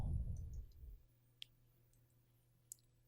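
A computer mouse gives two faint, sharp clicks about a second apart, close and alone after a brief low rumble fades out.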